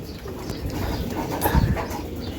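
Racer pigeons in a loft coo softly under a constant background murmur, with low throaty calls swelling briefly near the middle.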